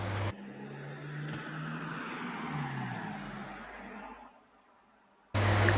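A car speeding past near police, a steady broad engine and road rush that fades after a few seconds, muffled and fairly quiet.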